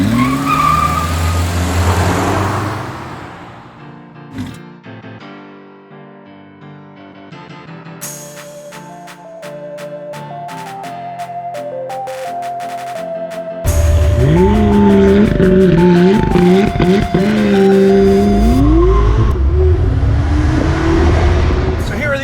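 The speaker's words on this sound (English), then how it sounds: "This is the McLaren 570 GT." A McLaren 570GT with a 3.8-liter twin-turbo V8 driving, building from a quiet start to loud engine revving and pitch sweeps through gear changes, with stretches of talk over it.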